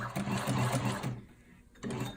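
A sewing machine stitches material at close range with a rapid mechanical whirr that stops briefly as the needle stays in the fabric at a corner, then starts again.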